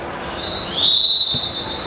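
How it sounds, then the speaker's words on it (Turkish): A single long, shrill referee's whistle blast, loud and steady, over a noisy crowd-like background. "Maçın hemen başına hakem düdüğünü çaldı."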